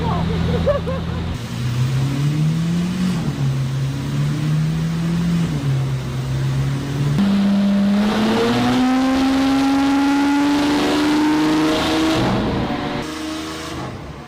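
A Lamborghini Aventador SVJ accelerating hard on a run, its engine note climbing steadily through the gears, loud and close, with a voice talking over part of it.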